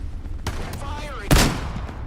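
Gunfire in the VR shooter Into The Radius 2: a few sharp, loud shots, with a heavy close blast near the end standing out over background game noise.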